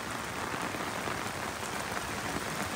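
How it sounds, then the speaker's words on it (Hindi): Heavy rain pounds the roof and sunroof of a Mahindra Scorpio N in a steady, dense roar of drops, loud and close, with no voices. "अब ऊपर से देखो आप, ये देखो ऊपर से बारिश देख लो कितनी तेज।"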